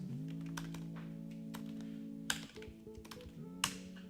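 Faint clicking of typing on a computer keyboard, a few scattered keystrokes and taps beneath a steady tonal hum.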